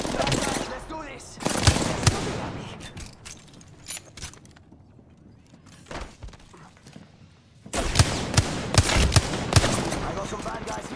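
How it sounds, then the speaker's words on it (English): Gunfire in the video game Apex Legends: dense bursts of loud rapid shots at the start and again near the end, with a quieter stretch of scattered single shots and thuds in between. "The enemies are shooting at you."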